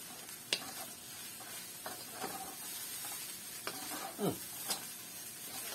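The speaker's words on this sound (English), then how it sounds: "Now we're getting a little bit of sizzle there, which is nice" Quiet, steady sizzle of egg fried rice frying in a pan, with occasional light taps and scrapes of stirring.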